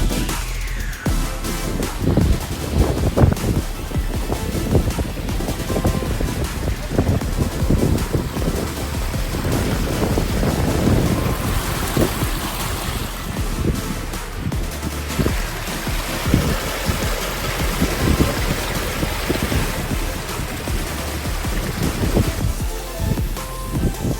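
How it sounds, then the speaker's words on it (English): Strong wind blows outdoors beside a pond and river with waterfalls, a continuous loud roaring rush with gusty buffeting against the microphone and no voices. "It's a little windy today."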